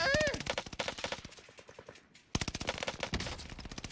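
Rapid automatic gunfire from a Cooper Carbine in the video game Call of Duty Warzone, dense bursts of shots, a short lull, then another sustained burst.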